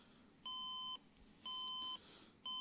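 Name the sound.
computer beeping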